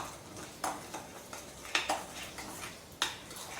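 A spoon or whisk scrapes and clinks against a bowl while dry ingredients for a German-style quark cheesecake are mixed, with a few sharp taps over soft, quiet stirring.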